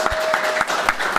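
Audience applause from a room after a panel discussion on freedom of speech for creatives, a steady wash of many hands clapping at moderate loudness with a few sharper claps standing out, no voices over it.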